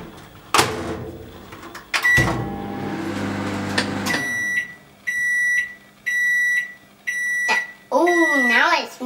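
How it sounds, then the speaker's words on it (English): A microwave oven melting ingredients for lemon curd muffins hums after its door shuts and buttons beep, then sounds repeated loud electronic beeps in evenly spaced bursts when finished, close by, with a warbling tone at the end. "To put in the microwave."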